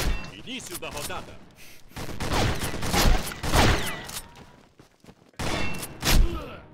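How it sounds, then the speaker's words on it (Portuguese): Gunfire from a 12-gauge Remington 870 shotgun in the online shooter Combat Arms, several loud sharp blasts in bursts across the round, mixed with game effects and voices talking. "Eu erro muito tiro de 12."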